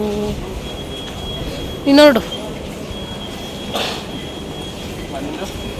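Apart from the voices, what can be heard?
metro train running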